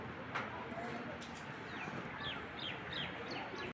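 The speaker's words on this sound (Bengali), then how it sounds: "এ হলো আর কি আমাদের কবুতরগুলো" Racer and Giribaz pigeons in a loft give faint, scattered chirps and soft calls against a low hum of background noise, with someone talking over them.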